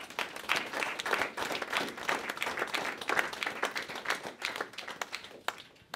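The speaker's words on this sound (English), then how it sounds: "Please give him a clap, please." An audience at a community event claps steadily, a dense patter of many hands heard from some distance, quiet but continuous for several seconds.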